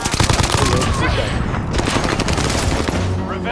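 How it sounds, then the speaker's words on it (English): Rapid automatic gunfire in the video game Call of Duty: Modern Warfare, a dense, continuous rattle of shots with booming impacts, loud and close throughout, with voices mixed in under the firing. "They're shooting!"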